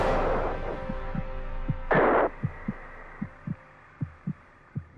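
An astronaut's heartbeat monitored during a strenuous march plays as a steady series of soft, low thumps at a regular pulse, with a brief burst of broadband noise early on and a faint hum beneath.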